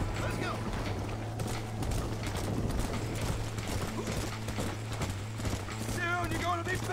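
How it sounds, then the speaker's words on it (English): Horse hooves clip-clop steadily with a brief whinny near the end, over a constant low hum and background game sounds from Red Dead Redemption. "This horse."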